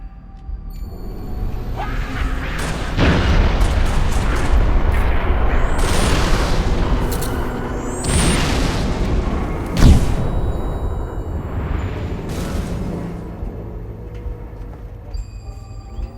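Explosions from a fire-mission strike in the Halo Reach video game land as heavy booms, with several loud blasts and rumbling debris over roughly ten seconds before trailing off.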